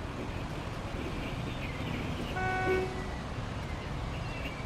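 A bus horn in Bus Simulator 21 gives one short honk in the middle, a clear tonal blast that rises out of steady engine and road rumble and then stops.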